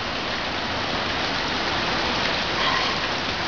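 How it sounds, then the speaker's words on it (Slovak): Steady, dense rain pours down in a garden during a summer storm, a continuous even hiss of drops striking surfaces, loud and close with no voices over it. "pozri tam dobre prší"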